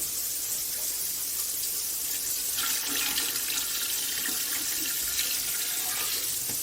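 Water gushes steadily from a tap into a large canning pot, a continuous close rushing splash that holds even throughout with no talk.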